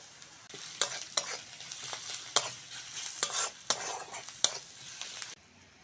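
Onions frying in a pan with turmeric and salt, a soft sizzle under sharp, close scrapes and clinks of a spoon stirring against the pan at a steady pace, with no talking.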